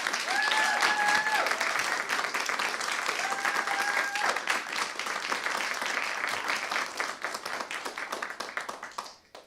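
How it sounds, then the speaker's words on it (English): An audience gives the show crew a round of applause, sustained and fairly close, while a few whistles ring out early, before the clapping thins to scattered claps and dies away. "I'd like to give a round of applause for our crew."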